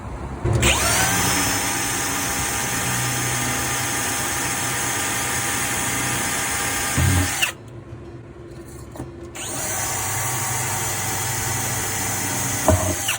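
A loud power drill whirs steadily, drilling through holes while installing a center console on a skiff, stops for a couple of seconds, then drills again, close and continuous.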